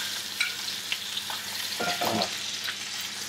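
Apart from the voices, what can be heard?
pigeon sizzling in a pan while being basted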